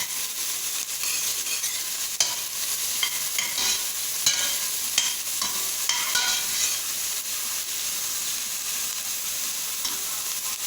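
Two large cloves of garlic fry in a pan with a steady, bright sizzle, broken by occasional scrapes and clicks of stirring throughout, close and alone with no talking.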